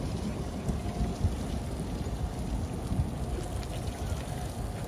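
Steady rain falls outdoors on a farm as a storm builds, making a dense, continuous hiss close to the microphone with no voices.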